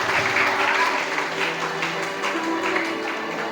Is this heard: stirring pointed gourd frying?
no